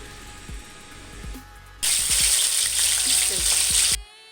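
Schezwan chutney and sauce mixture frying in oil: soft stirring clicks, then a loud, steady sizzle that surges in and holds for about two seconds before cutting off.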